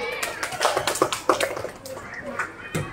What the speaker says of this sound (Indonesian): Tepuk tangan untuk Hani dan Jihan